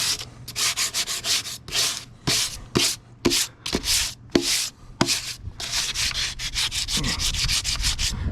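Hand sanding of black filler coat on a restored machine tool, rapid rhythmic scratchy strokes in bursts, close and fairly loud, with a few sharper taps between passes.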